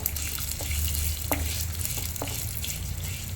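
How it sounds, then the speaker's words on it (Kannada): Fenugreek seeds fry in hot oil with a steady close sizzle, broken by a few soft scrapes as they are stirred in the pan. "ಮೆಂತ್ಯ ಹಾಕ್ತಾ ಇದ್ದೀನಿ ಇದನ್ನು ಅಷ್ಟೇ ಕೆಂಪಗಾಗೋವರೆಗೂ ಹುರ್ಕೋಬೇಕು"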